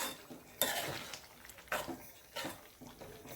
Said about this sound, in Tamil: போட்டு நல்லா கிளறி விடுவோம்.